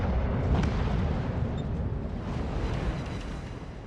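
Heavy naval guns fire shells in World of Warships, giving a deep booming rumble with a few sharp reports over a continuous battle roar, moderately loud.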